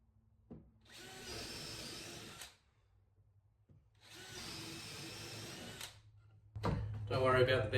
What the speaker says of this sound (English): Put your 4 corners in with a 10mm drill bit.